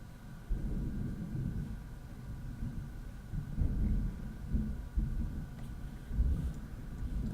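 Thunder from a real storm outside rolls through as low, deep rumbles that swell and fade several times, heard at a distance with no talk.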